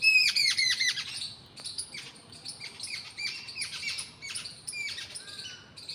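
Several birds squawk and chirp close by in rapid, overlapping bursts, loudest at the start, then continuing in quieter repeated runs over a low background rumble.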